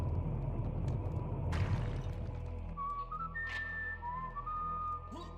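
A short whistled Indiana Jones tune from the video game Limbo of the Lost: thin, clear whistled notes that rise and slide, following a low rumbling swell, with no voices.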